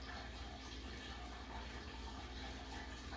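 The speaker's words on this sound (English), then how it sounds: "Now it's done, pour into the container." Agar agar jelly mixture, just brought to the boil, poured steadily into a container, a faint continuous liquid stream with no pauses and no voices.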